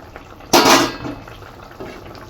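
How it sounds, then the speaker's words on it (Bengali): Fried hilsa fish pieces drop into a boiling mustard curry with a single brief, sharp splash and clatter, then a quiet simmer follows. "এখন এবার আমি এর মধ্যে ভেজে রাখা মাছগুলো দিয়ে দেবো"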